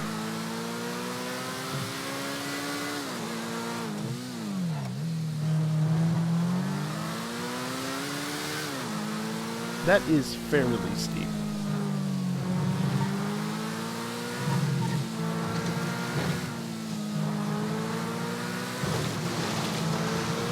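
A car engine in the game GTA revs and surges, its pitch sweeping up and down in steady waves as the car drives, with someone talking over it.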